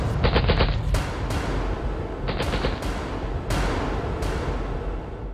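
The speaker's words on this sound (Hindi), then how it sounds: "पठानकोट एयरफोर्स स्टेशन से लगातार दूसरे दिन भी गोलियों की तड़तड़ाहट और धमाके की आवाज आती रही।" Gunfire at Pathankot Air Force Station during a counter-terror operation: short machine-gun bursts followed by several single sharp shots with echoing tails, heard at a distance over a constant background rumble.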